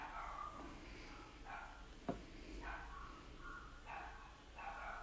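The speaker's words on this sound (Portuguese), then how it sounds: "Uma cachorrada doida aqui." A pack of dogs barks repeatedly in the distance, muffled and faint bursts recurring under a steady background hum, with one sharp knock partway through.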